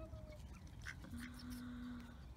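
Duck quacking outdoors on a tour day, a few short nasal quacks and honks over steady background noise, with a faint voice nearby.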